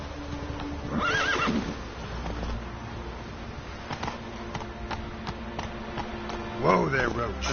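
Roach, the horse from The Witcher 3, lets out two loud whinnies, one early and one at the end, with hoof clops and a voice speaking in between.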